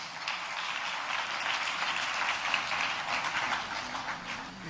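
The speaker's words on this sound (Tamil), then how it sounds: "கைதட்டுங்க ஆண்டவருக்கு, ஆண்டவருக்கு கைதட்டுங்க" A church congregation at a Tamil Christian service claps together for the Lord, a dense, steady patter of many hands heard at moderate volume with no voices.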